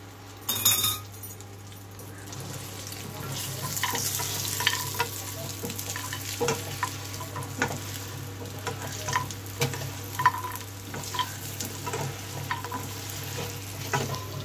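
Fried potato, taro and bori being stir-fried in a pan after a cumin tempering, a close steady sizzle with a spatula repeatedly scraping and clinking against the metal.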